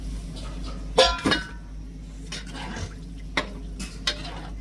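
Kitchen clatter of chopped tomatoes tipped into a pan for a fish curry, a couple of sharp clanks followed by lighter scraping and a soft sizzle underneath.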